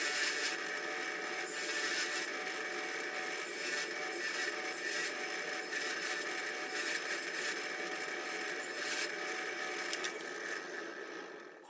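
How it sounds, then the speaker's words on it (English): A fiber wheel works an octagonal screwdriver shank during restoration, a steady high whirring grind with brief scraping bursts, fairly quiet and continuous. "Now for some work with the fiber wheel."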